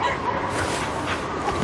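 Dogs in the Cryostasis video game bark and yip repeatedly in a quick, busy cluster, fairly close and clear, with a faint whimpering quality between barks.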